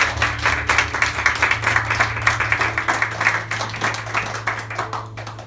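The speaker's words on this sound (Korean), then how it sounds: "우리 반주자와 기타 연주자 박수하겠습니다." A church congregation claps for the accompanist and guitarist, a moderate, steady patter of hands over a low sustained organ or keyboard drone, tapering off near the end.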